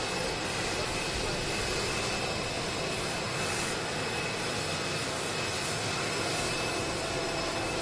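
Aircraft engine running steadily at West Palm Beach airport in Florida as military personnel leave the back stairs of the plane, a constant loud broadband roar with a high whine throughout.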